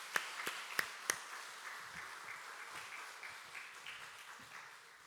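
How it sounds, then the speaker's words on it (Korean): A church congregation applauds during a Sunday worship service, a few loud sharp claps at first, then spreading into steady, moderately distant clapping that gradually thins out. "우리 박수로 축복하겠습니다."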